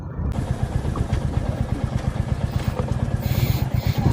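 A motorcycle riding on the NH12 highway near a toll booth, a steady throbbing engine rumble with wind noise, close and continuous, with someone talking over it.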